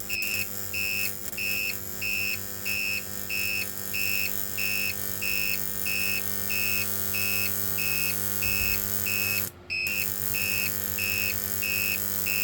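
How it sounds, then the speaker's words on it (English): A microwave oven transformer on a sine wave inverter with a ballast coil and light bulb buzzes constantly close by, layered with evenly spaced high beeps repeating throughout, briefly interrupted by a short click. "buzzing noise"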